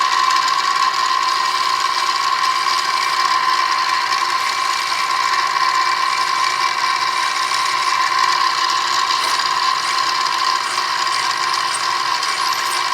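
A drill with a collet boring into a custom spacer plate gives a steady, loud, continuous whine with a bright mid-range tone that holds unchanged throughout, alone without talk.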